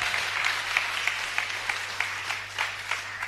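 A congregation at a youth church retreat applauds, with steady crowd clapping, a dense patter of many hands held at an even moderate level over a low background hum.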